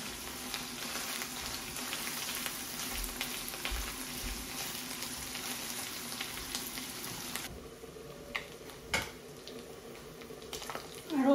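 Dried loitta fish (shutki) frying steadily in a pan, a continuous moderate sizzle that thins out toward the end, with a few clinks and scrapes near the close.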